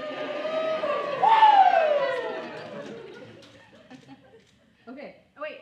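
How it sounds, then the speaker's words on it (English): A small group of graduates at a college graduation lets out a rising whooping cheer that fades into scattered chuckles, followed by a few short bursts of talk. "Okay, so we just cheered."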